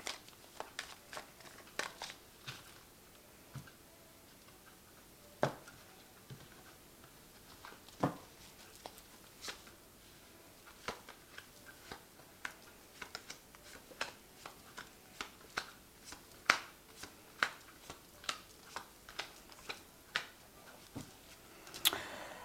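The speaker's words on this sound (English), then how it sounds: "So I have shuffled this deck. I'm just going to draw some cards from it." Quiet, scattered clicks and soft slaps of tarot cards being shuffled, drawn and laid down, irregular taps spread over a long, hushed stretch.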